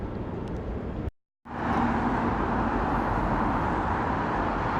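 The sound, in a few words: traffic noise on the Tyne Bridge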